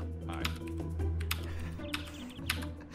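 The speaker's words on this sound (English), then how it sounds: "I hear Greg just clicking" Computer keyboard keys click in quick, irregular bursts during a Garry's Mod hide-and-seek session, close and fairly faint beneath a low game hum.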